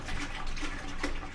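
A full gallon of milk pours steadily into a cooking pot on the stove, a close, continuous liquid glugging and splashing with no talk.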